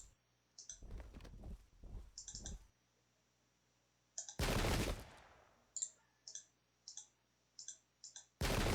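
Gunfire in the Pike and Shot battle game: a long roaring volley mid-clip, preceded by a burst of several sharp shots, then a run of crisp clicks and short reports at the end.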